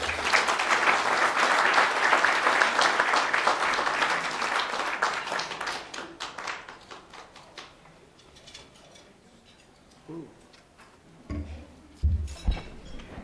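A forum audience on Africa and China applauds Ambassador Don Yamamoto to the podium, loud sustained clapping that gradually fades over several seconds before a few knocks and handling sounds at the microphone.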